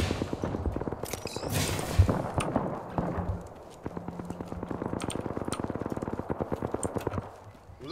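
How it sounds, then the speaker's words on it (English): Rapid bursts of gunfire ring out in a sand-dune area of an Apex Legends match, with sharp rattling volleys and steady repeated shots, loud and close, going on for several seconds. "Who the fuck's shooting over?"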